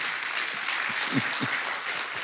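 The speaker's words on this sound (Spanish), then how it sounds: "Un fuerte aplauso para mi hija Miriam." Audience applause at a church gathering in Puerto Rico, a steady wash of many hands clapping throughout at moderate, even loudness, with no talk over it.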